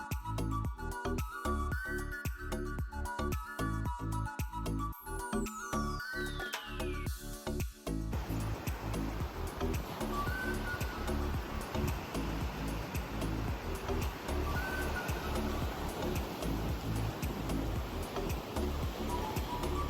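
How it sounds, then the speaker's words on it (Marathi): High-tide sea waves on Anjarle beach in the Konkan, a continuous roaring wash of surf, with a rhythmic electronic tone pulsing over the first several seconds before the broad surf sound takes over. "दुपारचा टाइम होता त्यामुळे समुद्राला भरपूर अशी भरती देखील आलेली"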